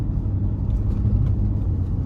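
Inside a VW Touareg with a V6 diesel and automatic gearbox while driving, a steady, quiet low rumble of engine and road noise holds evenly with no talking.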